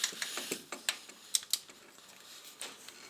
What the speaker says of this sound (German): Jetzt schön über Kreuz anziehen, dass sich die Scheibe richtig setzt.